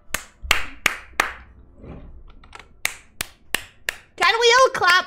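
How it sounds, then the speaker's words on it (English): Several sharp claps ring out in a loose rhythm, loud and close, with a brief burst of speech near the end, from the Shantae and the Seven Sirens video game. "Can we give her a clap?"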